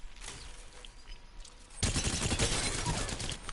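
Assault rifle in the Apex Legends firing range, a quieter opening followed by a loud, sustained burst of rapid automatic fire with no voices over it.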